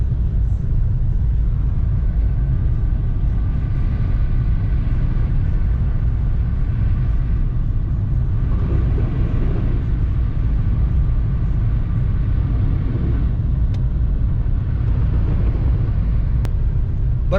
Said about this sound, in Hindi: इस वजह से हमको अपनी गाड़ी की रफ़्तार भी कम करनी पड़ गई है और 30-40 किलोमीटर की रफ़्तार से हमको जाना पड़ रहा है।